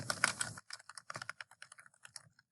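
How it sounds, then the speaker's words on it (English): Typing on a computer keyboard, a quick close burst of clicky keystrokes in an uneven rhythm, alone without talk. "And you're going to type your name"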